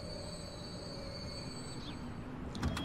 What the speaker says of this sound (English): Oh, there's a Chiltern Line train here. Chiltern Line trains don't stop. That's gone straight past the station.